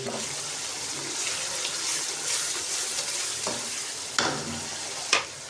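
Chicken sizzles steadily in a pan with black pepper while a utensil stirs and scrapes, with a couple of sharper clinks against the metal near the end.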